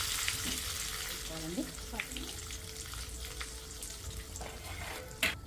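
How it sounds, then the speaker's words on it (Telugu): Mustard seeds, cumin and chillies sizzle in hot oil in a pan while ivy gourd chutney is being made. A steady close frying hiss runs throughout, with someone speaking briefly over it and a sharp clatter near the end. "కొంచెం వేడెక్కినాక కదండి ఆవాలు వేసుకోవాలి, జీలకర్ర, మిర్చి"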